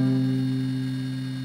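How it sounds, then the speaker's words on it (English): An electric guitar power chord rooted on G, played clean without a harmonizer pedal, rings as one sustained, steady chord that slowly fades, heard alone. "This is the sound of a power chord without the harmonizer."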